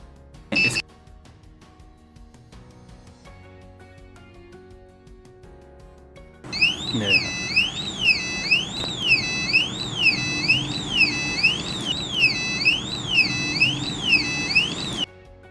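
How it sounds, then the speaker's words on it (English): An Arduino Nano laser security gate alarm sounds loud and alone, a rapid warbling electronic siren rising and falling in repeated sweeps for several seconds after a brief beep. "To turn off the alarm, you need to press the tactile switch again."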